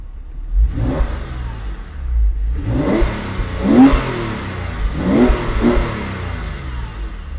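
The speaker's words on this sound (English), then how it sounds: "Let's give it a good rev for you." A 2004 Porsche 911 Carrera 4S Cabriolet (996) flat-six revved loud and close, three rising blips in a row that each fall back to a steady idle, no talking.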